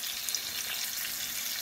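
Capelin fish coated in flour fry in a pan with a steady, soft, hissing sizzle and no talk.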